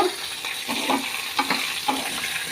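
Onion with dried red and green chillies frying in a pan for a dosa chutney, a close, even sizzle broken by a few soft stirring scrapes, with no voices.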